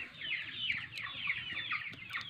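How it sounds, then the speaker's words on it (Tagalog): Hungry chicks peep and cheep continuously in a busy, overlapping chorus of high chirps, close and fairly loud, with no talking. "Pasensya na kayo mga katropa at maingay yung ating mga sisiw."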